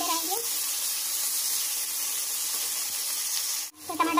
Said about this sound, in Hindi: गलेगा नहीं टमाटर सब, तब तक हम भूनते रहेंगे